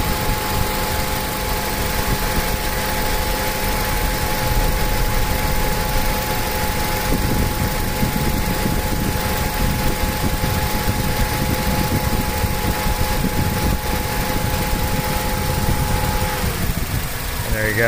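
A 2003 Honda Element 2.4-liter AWD that runs hot idles steadily with both electric cooling fans whirring, a continuous close, even drone with a faint change near the end as the fans cycle.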